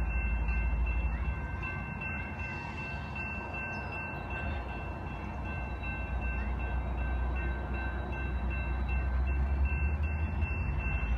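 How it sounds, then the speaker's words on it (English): A standard Amtrak train rolls very slowly through the Raleigh depot, a steady close rumble with metallic rail squeals and a faint beeping over it and no voices. "it seems to be a standard Amtrak train"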